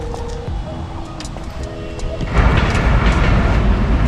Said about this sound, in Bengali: ট্রেন চলে গেল একটা